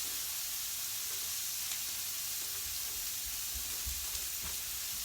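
Vegan calamari pieces frying in a pan make a steady, close, broadband sizzle and hiss that runs unbroken throughout.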